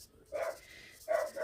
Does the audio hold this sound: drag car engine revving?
no